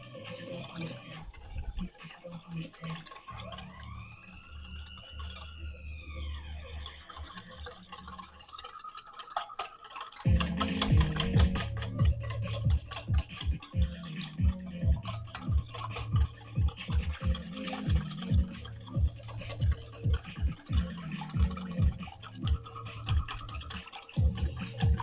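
A rice vinegar dressing for Vietnamese spring rolls is whisked in a bowl: after some quieter handling noises, a fast, steady run of close, scratchy whisk strokes continues to the end.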